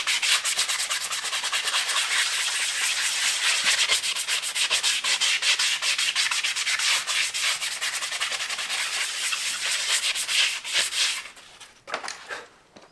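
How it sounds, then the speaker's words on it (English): Horse's hoof being sanded during shoeing of an eventing horse, a continuous close, loud abrasive rasping with rapid back-and-forth strokes that stops near the end, followed by a few light knocks. "Now we sand it up."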